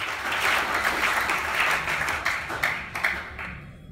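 Congregation applauding inside a church, a steady dense wash of many hands clapping for about four seconds, with a few sharper individual claps standing out toward the end.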